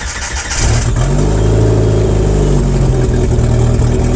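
A Jeep Wrangler engine cranks and fires after a short starter whir, then settles into a loud, close, steady rumble with light revving.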